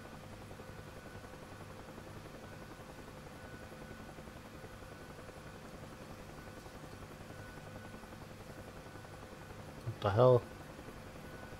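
Helicopter rotor drone in DCS World, a steady low buzzing hum throughout, with a short spoken exclamation near the end.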